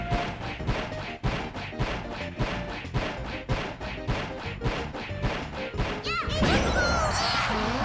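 Rapid, regular stream of punchy hit impacts as the Ice Climbers wobble Jigglypuff in Super Smash Bros. Melee, about twenty evenly spaced thwacks, then a whooshing crash and a noisy burst closing out the sequence.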